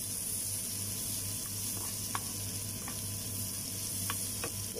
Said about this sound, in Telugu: వెల్లుల్లి ఆనియన్ కరివేపాకు ఒకసారి కలుపుకోండి